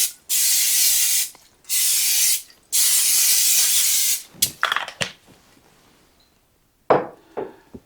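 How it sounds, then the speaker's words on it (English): Cooking spray hisses into a crock pot in three sustained bursts, close and loud, followed by a few clicks and knocks of handling the can and pot. "Next, I'm going to go ahead and spray the crock pot."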